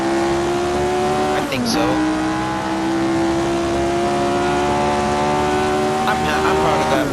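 Jim Clark's Formula 1 car in Assetto Corsa on the 1966 Monza oval, its engine holding a loud steady high-pitched note with a brief shift and tire squeal early on, while a voice speaks briefly over it.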